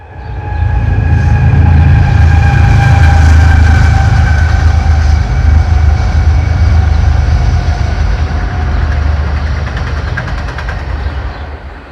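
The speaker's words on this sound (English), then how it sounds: "And here comes another train." A train rumbles past nearby, a loud, sustained low roar with a steady mechanical hum that slowly fades toward the end.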